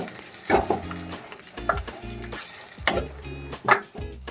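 Homemade tomato paste from two tomatoes is stirred and fried in a pan for paneer biryani: a handful of distinct scraping strokes of a spoon against the pan roughly every second, each over a soft sizzle, close and clear.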